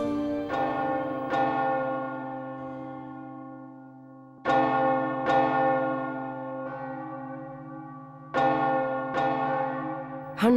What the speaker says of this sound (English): Church bells were rung for every death.